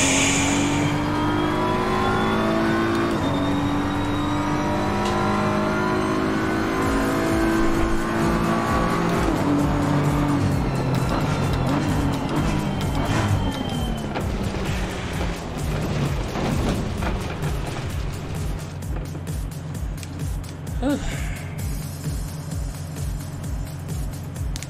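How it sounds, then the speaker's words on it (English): A car in Threads Racing drives over gravel under a steady, rising engine drone, with the loose surface crunching and hissing beneath it. The sound stays loud and continuous the whole way through, with a few mechanical rattles. "The sound of gravel."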